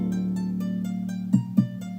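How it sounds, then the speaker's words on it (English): Ukulele sample pitched down an octave to act as a kick drum, two deep punchy thumps landing near the end over a sustained low tone, close and clear. "there's our kick drum with the ukulele"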